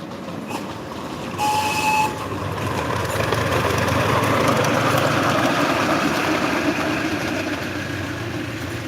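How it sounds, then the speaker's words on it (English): Miniature railway engine thundering up an incline, a sustained loud rumbling roar with a brief whistle-like tone early on, close and continuous with no talking. "you can just hear it thundering up the incline there"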